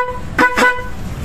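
A newly bought motorcycle's horn gives two short, loud, buzzy honks in quick succession over a low background hum.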